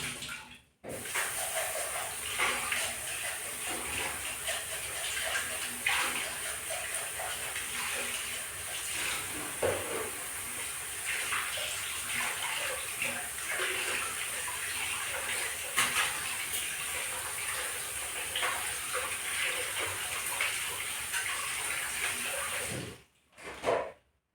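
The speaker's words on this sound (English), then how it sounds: "I'm washing my butthole." Water running steadily from a tap while washing in a bathroom, a continuous splashing hiss lasting about twenty seconds with small surges, starting and stopping abruptly.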